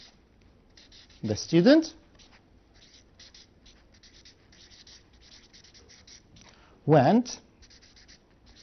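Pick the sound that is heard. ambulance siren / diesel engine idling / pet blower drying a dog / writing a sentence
writing a sentence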